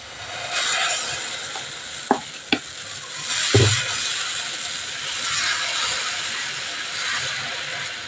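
Uttapam batter hits an oiled pan and sets off a steady, close hiss of sizzling, with a few sharp clicks and a brief thump from the pan and utensil.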